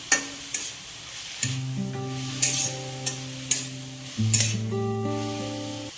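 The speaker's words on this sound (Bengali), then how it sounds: "তবে ভালো করে ভেজে নিও সবগুলো সবজি" Mixed vegetables stir-fry in a pan with a soft sizzle and periodic scraping stirs, under a tonal melody playing in the background.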